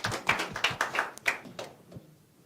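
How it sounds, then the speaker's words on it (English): Audience clapping at a manifesto launch event in a conference facility: a short burst of sharp, close claps from a small group that quickly thins and fades out. "Let's clap for them."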